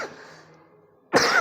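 A single short, harsh cough bursts out near the end after a faint quiet stretch, from a person unwell with a cough.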